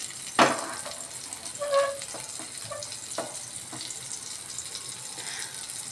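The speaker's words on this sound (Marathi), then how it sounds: "त्याच्यावरती मी आता हे पापलेट फ्राय करायला ठेवते।" Pomfret frying on a tawa over medium gas gives a soft, steady sizzle with a few sharp crackles and pops near the start; the overall level stays fairly quiet.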